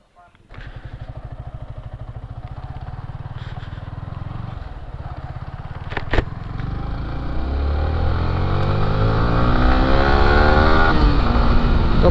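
A Yamaha R15 V3 motorcycle is ridden, its engine droning steadily and then climbing in pitch as it accelerates hard. The drone is loud and continuous, with steady wind and road noise.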